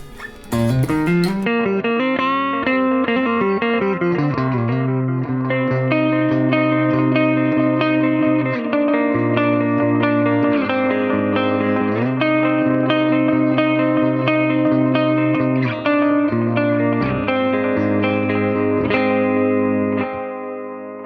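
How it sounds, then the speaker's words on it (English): A sustained, distorted electric guitar through a tape delay effect on a GE250 unit plays slow held notes with repeating delayed echoes trailing each one, loud and continuous. "Really like the tape delay here."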